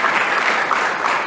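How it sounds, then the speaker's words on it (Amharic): A church congregation claps together in sustained, loud, even applause that fills the room with no pauses. "እስቲ አጨብጭቡ ለእግዚአብሔር ክብር"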